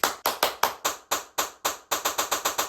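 A dozen sharp hand claps in a steady series, loud and close, with a brief pause partway through before a faster run resumes, in a quiet room at home.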